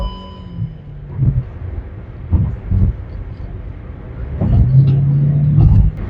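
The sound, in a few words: IVT car accelerating on the highway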